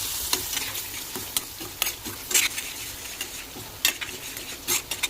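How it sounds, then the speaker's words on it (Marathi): Ground spice paste frying in hot oil and butter in a kadhai, a low sizzle broken by repeated sharp clinks and scrapes of a spoon stirring against the metal at an irregular rhythm. "तर आपण जो वाटून घेतलेला मसाल्याची पेस्ट आहे ती आपण याच्यामध्ये मिक्स करू."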